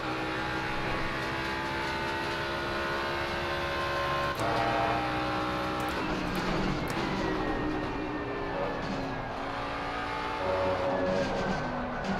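Vintage race car engines roaring at Suzuka in Assetto Corsa Competizione, a loud, steady engine drone with rising and falling pitch as gears shift, continuous and up close with no talk.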